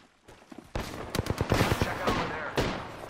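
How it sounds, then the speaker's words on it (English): Gunfire from a battle in Apex Legends: a quiet lead-in, then a burst of rapid shots crackling closely together, with a final shot after a brief pause. "Shots fired,"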